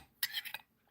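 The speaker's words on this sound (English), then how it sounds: "Just pushing the leaves back down into the base with a spoon" A brief scrape and clink of a spoon pushing tea leaves down in a cup, a couple of quick metallic touches close by, then quiet.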